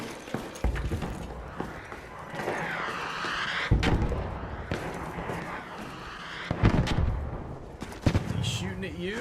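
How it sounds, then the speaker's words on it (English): A bombardier enemy in the Arc Raiders video game fires artillery, with several heavy booms and metallic mechanical clanks under ongoing game noise and talk. "now I hear the bombardier now"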